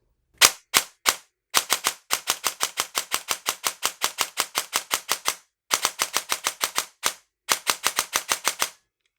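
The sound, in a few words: DSG airsoft gun with Perun V2 Optical firing, not precocked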